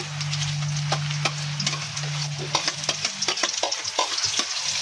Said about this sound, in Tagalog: Tapos ilalagay na natin mga Mima itong ating sibuyas, bawang at saka luya